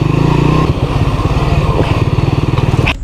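Several motorcycles labor over a rough forest trail, a loud, close, continuous engine drone with uneven throttle pulses and clatter throughout, ending in a brief rev.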